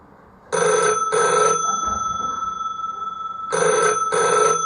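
An old-style telephone bell rings loudly and close in two double bursts, separated by a long quiet gap, with no talk over it.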